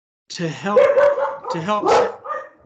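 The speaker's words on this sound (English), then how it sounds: "sorry about my dogs" Dogs bark and yip nearby in several short bursts while someone talks during a meeting.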